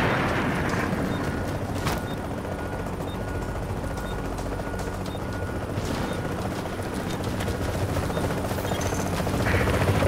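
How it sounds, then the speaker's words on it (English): Helicopter in Tom Clancy's The Division video game, a loud continuous rotor roar with dense chopping texture that holds steady throughout and swells slightly at the end, with no voices. "Chopper is inbound."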